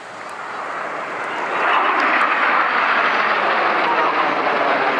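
Red Arrows jet aircraft flying a display at the 2013 Swansea Airshow, a broad roaring rush that swells louder over the first two seconds and then holds steady, with no talk.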